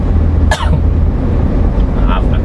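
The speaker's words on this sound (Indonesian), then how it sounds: "Maaf lagi batuk-batuk." A single sharp cough bursts out over steady road and engine rumble inside a car moving along a bumpy road between Bekasi and Jakarta, with low background noise continuing afterward.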